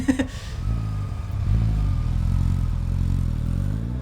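A motorbike engine idles and revs with a throaty, uneven rumble, close by, after a brief clatter at the start.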